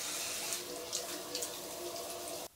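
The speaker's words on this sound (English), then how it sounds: "wait a couple minutes for the water to finish cycling through into the cistern" Well water pours continuously into a homestead cistern used alongside rainwater harvesting, a steady rushing flow with small splashy surges, fairly faint, then cut off abruptly.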